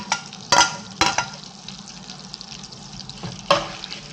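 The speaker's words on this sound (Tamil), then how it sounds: "பச்சை மிளகா இதில் போட்டுக்கலாம்." Green chilies frying in butter in a pan, a steady soft sizzle with a few sharp bursts of spattering and stirring clatter, close and fairly quiet, no voices.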